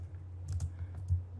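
Quick, quiet clicking of keys on a computer keyboard while HTML is typed into Notepad, a short run of light taps over a low steady hum.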